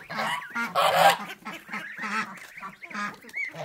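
A pet duck gives repeated nasal honks up close, a run of loud calls in quick succession with short gaps.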